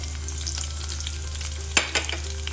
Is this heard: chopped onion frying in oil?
yes